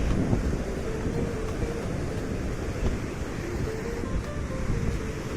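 Steady gusty wind roars over the surf at the shore, with waves washing continuously underneath, no voices.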